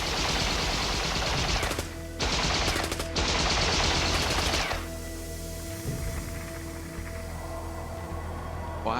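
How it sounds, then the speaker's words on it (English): Guards at the Berlin Wall open fire in several loud bursts of automatic gunfire, each lasting about a second, followed by a lower rumbling drone. "and the guards open fire."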